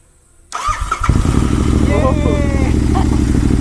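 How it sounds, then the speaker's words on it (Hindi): A Royal Enfield GT650 motorcycle that sat with a dead battery cranks briefly and fires up, then settles into a loud, close, throbbing twin-cylinder idle while someone talks over it. "और ये बाइक स्टार्ट हो चुकी है गाइस"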